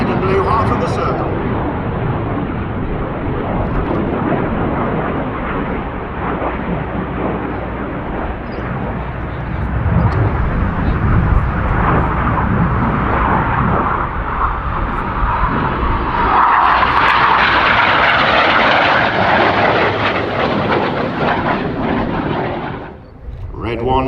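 Red Arrows display jets at the Miramar Airshow roar steadily overhead, a loud continuous engine rumble that swells into a brighter, louder pass near the end, with a commentator talking over it the whole time.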